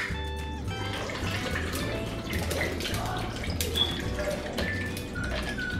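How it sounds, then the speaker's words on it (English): Mango drink pours steadily over ice in a cup, a continuous close liquid gurgle and splash with faint clinks running the whole time. "we are going to take our mango,"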